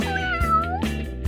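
A cat meows close up, a loud drawn-out call followed by a second shorter meow, clear and alone with no talking.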